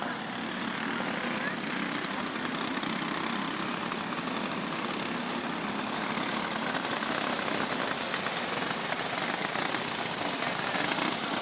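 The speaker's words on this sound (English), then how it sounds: "Coming around for your checkered flag is the 57 Maverick Amdahl." Junior 1 Wing Karts racing go-karts at Forks Karting Speedway finish a heat, their engines making a steady, loud, broadband whine and rumble throughout, with a track announcer talking over the noise.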